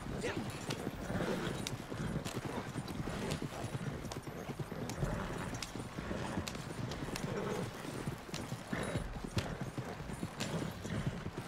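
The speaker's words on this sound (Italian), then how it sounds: "stranamente vanno più veloci i cavalli" Horses galloping in Red Dead Redemption 2 Online, a fast, continuous drumming of hooves close by, with someone talking over the steady clip-clop.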